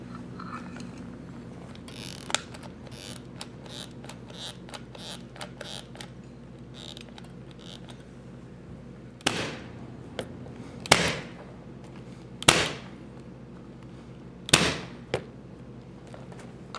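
Hot glue gun squeezing glue behind an old carpet piece to fix it in place: a run of faint clicks early on, then several louder, sharp ratcheting clicks spaced a second or two apart against a quiet room.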